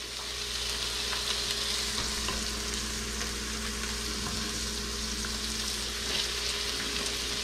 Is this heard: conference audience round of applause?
no